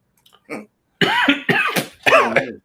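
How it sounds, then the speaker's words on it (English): Several sharp coughs and throat-clearing bursts from one nearby person, a couple of faint short hacks followed by three loud harsh coughs in quick succession, with no speech. "Sorry. Coughing still."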